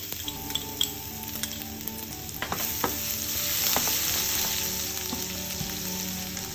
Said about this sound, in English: We will wait until they crackle properly and get a golden brown color.